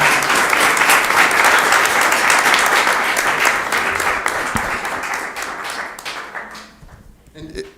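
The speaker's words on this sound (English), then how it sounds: "A round of applause for Mr. Leager." Audience applauding steadily at a city council meeting, a dense wash of clapping that holds loud for several seconds, then thins and fades toward the end.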